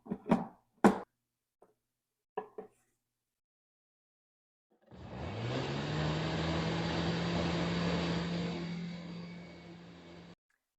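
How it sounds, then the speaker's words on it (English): A blender whirs steadily for about five seconds as it purées soy sauce and other mustard sauce ingredients, a close, even motor drone that starts abruptly after a few soft kitchen knocks and cuts off cleanly. "Get everything in the blender, give it a little mix to combine"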